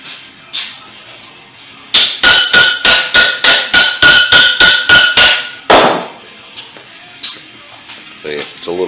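A hammer strikes sheet metal on the fender of a 1956 Ford F100 under rust repair. About fifteen sharp, ringing metallic blows fall in a quick, even run, with a few scattered taps before and after.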